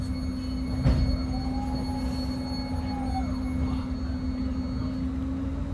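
A northbound local Caltrain runs toward San Francisco, its steady rumble filling the cabin, with a faint wheel squeal rising and fading partway through.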